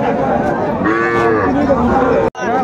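Cattle at a busy rural livestock market low loudly and close by, with one long drawn-out moo over a background of crowd chatter.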